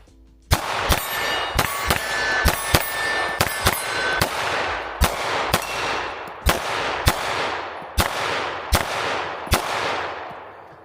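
Ruger RXM 9mm pistol firing quick double taps drawn from an external holster at steel targets outdoors in freezing weather, a dozen or so sharp loud shots, each paired with a ringing metallic clang of steel.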